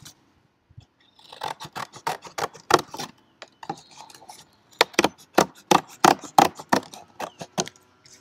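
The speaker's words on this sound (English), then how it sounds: "I'm going to cut off the flaps" Scissors snip through the flaps of a cardboard cereal box in a run of sharp, close cuts, rapid and irregular with brief pauses between bursts.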